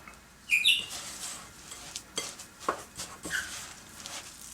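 A spoon stirring a wet apple crisp topping sweetened with maple syrup in a bowl, with light clinks and soft scrapes at irregular intervals, close and fairly quiet.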